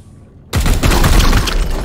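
After a brief quiet moment, loud gunfire in the video game Warhammer 40,000: Chaos Gate - Daemonhunters erupts suddenly and continues as a dense burst of shots with sharp cracking impacts.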